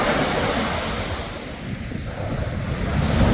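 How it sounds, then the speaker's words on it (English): Atlantic Ocean surf rolling and breaking close by, a continuous loud wash of waves with gusting wind buffeting the microphone, dipping briefly and then swelling again. "Ocean waves."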